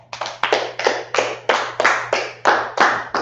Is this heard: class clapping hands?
yes